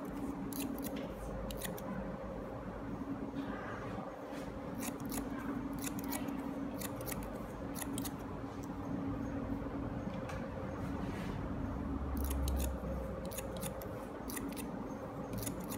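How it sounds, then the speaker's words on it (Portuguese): Scissors snip rapidly and repeatedly through short hair during a low textured haircut, a steady stream of crisp cuts over a constant background hum. "Essa é uma tesoura milagrosa."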